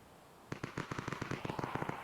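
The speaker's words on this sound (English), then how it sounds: "I hear some gunfire in the distance" Rapid distant automatic gunfire in the extraction shooter game Exfil Zone, beginning after a short quiet stretch as a quick, even run of sharp shots that continues to the end.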